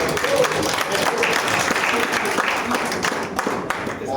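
An audience applauds a doctor as he is welcomed to the floor at a health talk, with moderate steady clapping and crowd murmur throughout.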